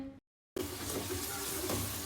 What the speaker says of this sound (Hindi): ज़रा सा पानी शामिल करके इसकी अच्छे से भुनाई करनी है।